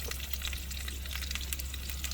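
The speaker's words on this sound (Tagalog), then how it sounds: "Sausage nearly cooked." Sausage frying in a pan, made at a seaside breakfast, giving a steady, even crackling sizzle over a low constant hum with no talking.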